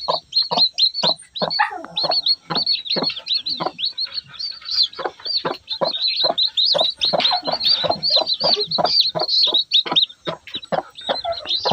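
A mother hen clucks over her seven chicks, with rapid, repeated high peeping from the chicks nearby and short clucks and scratching throughout, no talking.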